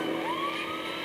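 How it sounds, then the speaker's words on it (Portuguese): An ambulance siren in a traffic racing video game, a single rising wail heard briefly and fairly loud over steady game engine noise. "Olha essa ambulância."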